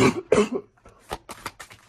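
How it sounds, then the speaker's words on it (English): A few dry coughs in a short burst, close and fairly loud, followed by softer throat-clearing hacks. "and now I'm coughing."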